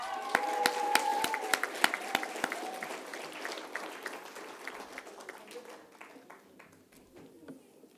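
An audience at a school leaving ceremony for the class of 2020 claps, with loud sharp individual claps at first that thin out and fade toward the end, a few voices murmuring beneath.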